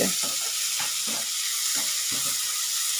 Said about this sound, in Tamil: இது கொஞ்சம் நல்லா வதங்கட்டும்.